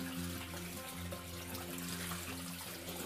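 Water splashes and drains from a container as mustard greens are rinsed, a steady wash of sound over a low, constant hum.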